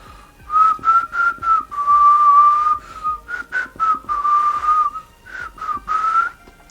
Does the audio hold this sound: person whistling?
yes